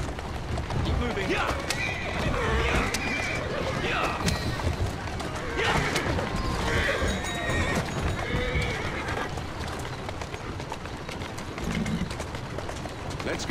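A horse in Assassin's Creed Syndicate, pulling a carriage through Victorian London, neighs and whinnies over rapid clip-clopping hooves. Game voices talk over the sound throughout.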